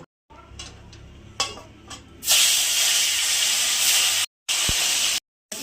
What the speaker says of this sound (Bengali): সব কড়া করে ভেজে দিচ্ছি